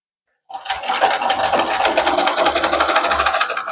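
A sewing machine runs steadily, stitching fabric with piping in a fast, continuous mechanical whir that starts abruptly and holds loud and close to the end.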